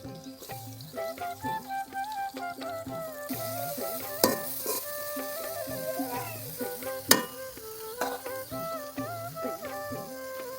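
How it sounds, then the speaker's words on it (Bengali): Sliced onion and green chilies fry in hot oil, a continuous sizzle broken by stirring scrapes and a few sharper knocks, fairly soft and without voices. "এখন পেঁয়াজ কাঁচামরিচ দিয়ে দেবো।"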